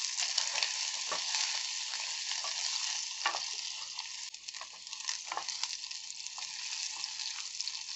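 Dense, hissing sizzle of salt pork frying in a pan, with intermittent scraping and stirring noises, close and steady throughout.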